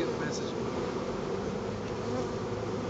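A dense, steady buzzing of many bees around a new beehive, close and continuous, forming a constant droning hum throughout.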